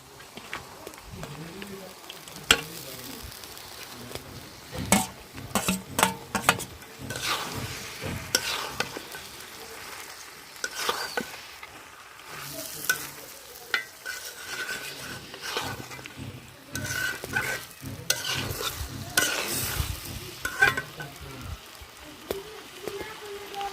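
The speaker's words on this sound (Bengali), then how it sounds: "দিয়ে দিব ভেজে রাখা কাতলা মাছের মাথা" Pre-fried catla fish head cooking in a pan for a moong dal muri ghonto, with steady frying sizzle and repeated sharp scraping stirs of a spatula close by throughout.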